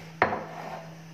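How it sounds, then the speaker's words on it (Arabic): Ingredients for Turkish-style cheese kunafa stirred in a bowl, a single sharp clink of utensil on the bowl followed by brief scraping, close and fairly loud over a faint steady hum. "نخلطو كامل مليح"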